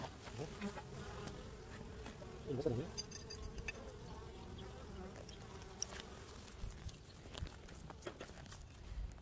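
Bees buzzing around an opened beehive during a hive visit, a faint steady drone with a closer insect passing by, with soft handling clicks and brief bumps nearby.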